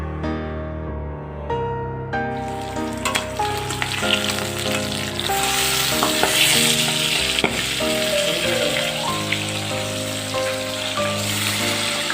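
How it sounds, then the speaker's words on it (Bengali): Fish frying in hot oil in a wok, sizzling and crackling steadily, with a bright tonal sound ringing over the frying throughout. "এবারে মাছগুলো ভেজে নেব।"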